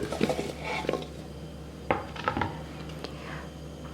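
Cut chicken pieces being placed back into a bowl, with several light clinks and knocks of dish and utensil, irregular and close, moderately quiet, with no voices.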